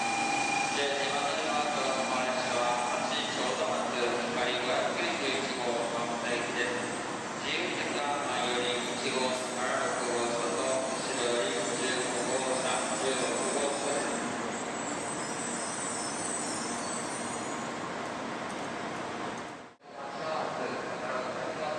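Hikari 591 Shinkansen train standing at Hiroshima Station, a steady broadband rumble of the train and station ambience with faint high squeal, continuous throughout, broken by a brief dropout near the end.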